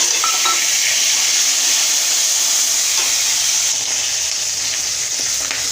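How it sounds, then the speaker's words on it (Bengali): Garlic, nigella seeds and dried red chillies sizzle steadily in hot oil, a loud, close, unbroken hiss with faint pops and a light clink of utensils, no voices. "এই কালো জিরে আর শুকনো লঙ্কা রসুন একসঙ্গে ভাজতে বসিয়ে দিয়েছি।"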